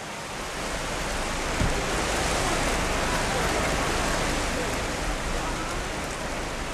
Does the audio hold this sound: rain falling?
yes